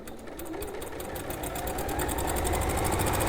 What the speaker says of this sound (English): So to finish off the lining, I'm just going to sew the side edges and the bottom edges